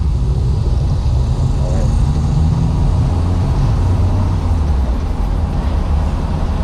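A Triumph 2500 MK I with a suspected steering fault is driven along, heard from inside as a loud, constant drone of engine and road rumble; someone talks over it, and no separate clunk stands out.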